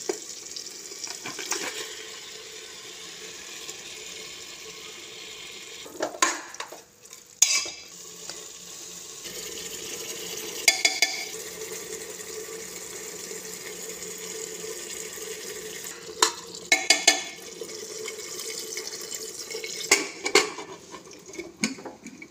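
Marinated chicken goes into a pressure cooker and fries for chicken curry, with a spoon stirring and clinking against the metal over a soft sizzle, broken by several louder clatters.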